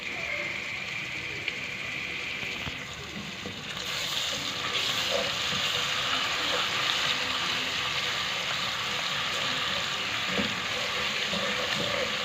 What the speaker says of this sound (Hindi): अदरक लहसुन के पेस्ट को हम कुछ देर भूनेंगे ताकि इसकी स्मेल ख़त्म हो जाए।